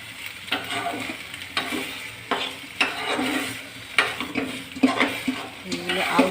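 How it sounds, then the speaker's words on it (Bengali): Beetroot pieces stirred and fried in hot oil with ginger for a Bengali beet curry: a steady sizzle broken by repeated scraping strokes of a spoon against the pan, close and fairly loud. "এখন বিটগুলোকে দিয়ে সুন্দর করে তেলে নাড়িয়ে নিচ্ছি।"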